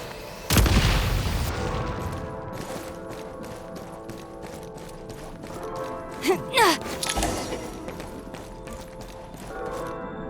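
Gunfire and explosions in the video game Genshin Impact: a heavy boom opens, followed by repeated sharp shots and cracks over a steady background, with further blasts in the middle.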